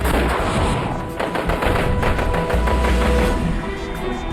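Gunfire erupts outside an abandoned slaughterhouse used as a kidnappers' hideout in a crime thriller, as armed police move in. Dense, loud volleys of shots crackle continuously for several seconds with no pause.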